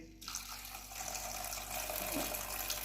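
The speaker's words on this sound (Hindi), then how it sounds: "अभी हम इसमें पानी ऐड करेंगे" Water pours steadily into a cooking pot of dry chickpeas, a continuous close splashing rush that runs for a few seconds without pause.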